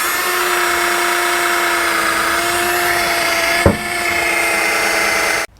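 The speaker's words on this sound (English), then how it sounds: "let's go ahead and start drilling our hole, getting all the way through" A masonry drill whines continuously and loudly as it bores through brick, with a sharp knock partway through before it stops abruptly.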